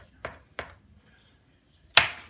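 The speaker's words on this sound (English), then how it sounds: "So if you take your knife and you go right down the middle of the breastbone" A knife cuts down the middle of a whole chicken's breastbone, giving two short chopping knocks followed by a sharper, louder crunch, close up on a cutting surface.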